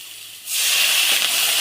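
Masala of salt and turmeric being fried in a pan breaks into a loud, steady hiss and sizzle as a little water is poured in, rising sharply after a quieter start.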